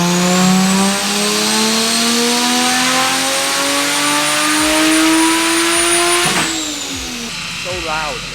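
A BMW E36 M3 running an M54 engine with a Bimmerworld race exhaust revs loud and close, its pitch climbing steadily over several seconds before dropping off sharply and settling into a rougher idle burble.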